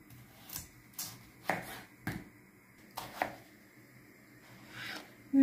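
A knife chops potatoes on a board: several sharp, distinct cuts spaced irregularly, close and clear, in a quiet room without speech.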